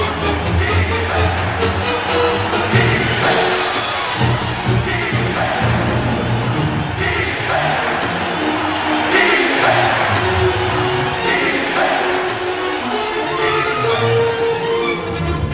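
A sellout football crowd at a 1993 Raiders game roars and cheers loudly and continuously, with swelling whoops and shouts throughout.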